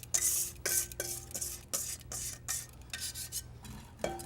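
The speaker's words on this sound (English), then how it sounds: "And we constantly stir it, otherwise it's gonna cook on the bottom." A utensil scrapes and swishes around a pot of pastry cream in repeated strokes, with soft metallic clinks and a low steady hum underneath.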